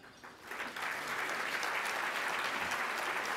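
An audience at the NDSU Harvest Bowl 2018 applauds its sponsors; the clapping swells within the first second into a full, steady round from a large indoor crowd.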